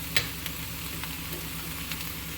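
Cabbage and chicken fried rice tossed in a pan on high flame, a soft continuous sizzle with a few light scraping and stirring ticks, fairly quiet and without talk.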